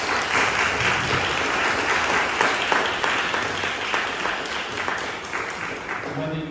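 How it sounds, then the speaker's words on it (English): Audience applause at a New York City panel on the green economy, a full, sustained round of clapping with voices mixed in, easing slightly toward the end. "Give them a round of applause, everybody."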